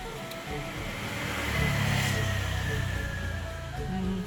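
A car engine running through its stock factory exhaust pipe gives a low, rough rumble that swells into a moderate rev midway, then settles to a steady idle-like drone.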